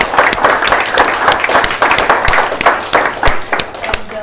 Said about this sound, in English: So big round of applause for our buyers agents